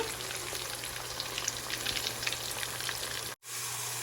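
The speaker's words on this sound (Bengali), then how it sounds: "এবার দ্বিতীয় ব্যাচে মাছগুলো ভেজে নিচ্ছি" Pieces of aar catfish deep-frying in hot oil for a fish kalia, giving a steady, close crackling sizzle with scattered pops throughout and a brief dropout near the end.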